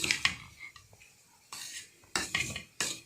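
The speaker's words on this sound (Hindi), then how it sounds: "इसको इसमें डालते हैं सारे मसाले को, और ये अच्छे तरीके से इसमें मिक्स करते हैं" A utensil scrapes and clinks against a bowl or pot while spices are mixed into a vinegar vegetable pickle, coming as several short, close bursts separated by quiet gaps.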